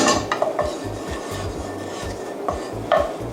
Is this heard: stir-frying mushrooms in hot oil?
yes